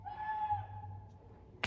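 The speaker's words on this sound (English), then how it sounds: "Who's outside screaming?" A person screams from outside, heard at a distance with a long, drawn-out wavering cry that fades away, followed by a sharp brief noise at the end.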